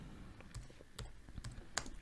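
Quiet clicks on a computer keyboard as a pip command is typed, about half a dozen sharp keystrokes spaced irregularly over two seconds, close and soft with no talk.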